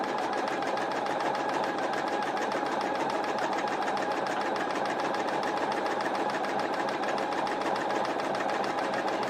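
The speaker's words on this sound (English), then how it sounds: "it's a very slow process to make these tight satin stitches." Sewing machine stitching a tight 0.4 zigzag satin stitch, a steady fast mechanical whir and rattle running evenly and uninterrupted at moderate volume, with no voices.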